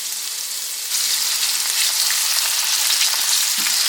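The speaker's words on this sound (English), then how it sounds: "I'm going to get everything mixed up together. And I'm just going to fry it up." Potatoes, onions and peppers fry in a pan with a steady, dense sizzle that grows a little louder after the first second, close and continuous with no talking.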